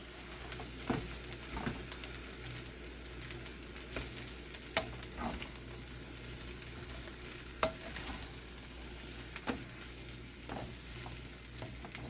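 Beef fried rice with peas, carrots, onion, egg and garlic sizzling and being stirred in a wok, a steady soft frying hiss broken by occasional sharp scrapes and clacks of the utensil against the pan.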